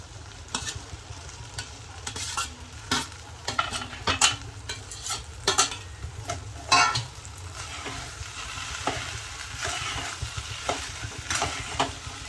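Okra stir-frying with salt and spices in a pan: a continuous close crackling sizzle broken by frequent scraping and clinking stir strokes at an irregular pace, with no voices.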